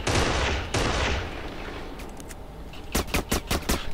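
Burst of gunfire from the Kane and Lynch 2 video game, a rapid string of sharp shots closing out after a stretch of duller rumbling noise.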